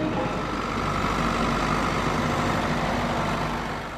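Farm tractor engine running at a steady, loud, continuous drone with a low rumble, no variation in pace and no voices.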